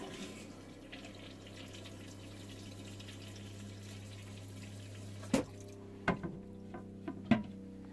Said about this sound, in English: And we're going to flush the toilet.